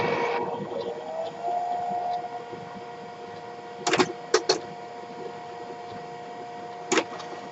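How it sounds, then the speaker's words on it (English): An inkjet printer feeding a sheet of thick watercolour paper, with a steady motor hum and a faint whine joined by a few sharp mechanical clicks and clunks, close by, no voices. "reset the printer so it can try again"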